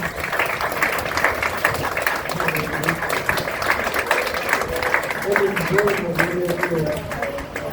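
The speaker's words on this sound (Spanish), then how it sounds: "Denle un fuerte aplauso al Señor en esta tarde" A church congregation applauds during an afternoon service, a steady dense wash of clapping that holds throughout, with voices talking and singing underneath.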